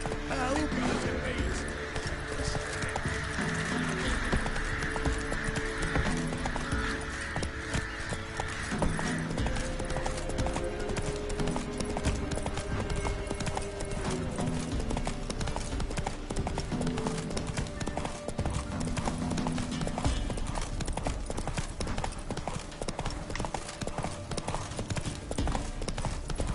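A horse gallops in the video game The Witcher 3, hooves drumming in a fast, continuous clip-clop rhythm over layered in-game ambience and music.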